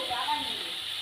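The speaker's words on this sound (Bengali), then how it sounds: "জলটা দিয়ে দিলাম।" Water poured into a hot pan of drumstick flowers, potato and eggplant gives off a steady, moderate hiss and sizzle that lasts the whole short moment.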